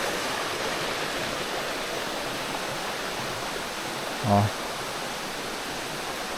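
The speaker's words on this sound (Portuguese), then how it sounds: "Esse barulhinho das águas é a sinfonia da natureza, como eu costumo falar." River water flows steadily along a forest trail in Canela, a constant broad rushing wash that fills the whole clip, with a brief spoken exclamation near the end.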